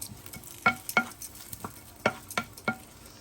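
Food fries in butter with a low background sizzle, broken by six or so crisp, close clinks of a utensil stirring against the pan in an uneven rhythm.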